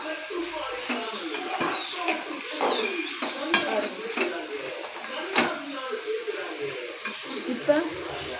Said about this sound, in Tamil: தண்டு நல்லா எண்ணெயில் வதக்கணும்